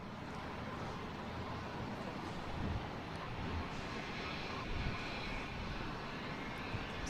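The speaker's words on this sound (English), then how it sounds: "Next coming in is the Southwest, coming in from Dallas, 737-800" A Southwest Boeing 737-800 arriving from Dallas at Boston Logan gives a steady, broad engine roar, heard from some distance and holding evenly throughout without talk.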